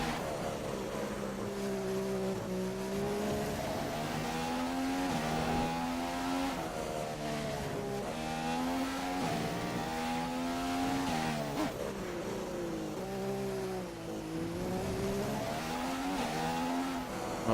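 An F1 race car engine in the F1 2015 video game screams continuously, revving up and down through gear changes in a repeating rising-and-falling pattern, loud and close throughout with no talk over it.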